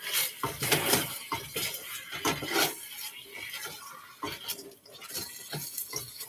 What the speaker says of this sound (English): So the beef's still cooking. I'm going to mix this up again.